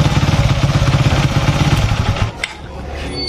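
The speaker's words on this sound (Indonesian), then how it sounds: "Ini bagian knalpot bocor nih." Honda Sonic 150 motorcycle engine running with a leaking exhaust, a close, rapid rhythmic putter for about two seconds before it drops away to a quieter hiss.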